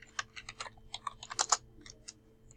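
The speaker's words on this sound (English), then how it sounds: "If I go back here and type in" Crisp clicks of typing on a computer keyboard to enter a search term, irregular keystrokes with a brief fast burst near the middle, close and alone over a faint electrical hum.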